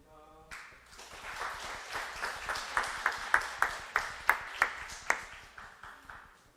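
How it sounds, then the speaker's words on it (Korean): A church congregation at a Sunday morning service in Korea breaks into applause, a rising clatter of clapping with sharp rhythmic accents, fading after several seconds. "박수로 축하해 주시기 바랍니다."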